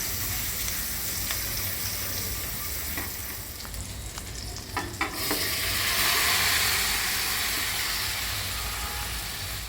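Ginger paste and boiled peas fry in a pan with a steady, loud sizzle and hiss, a few sharp clicks of stirring midway before the sizzle swells again.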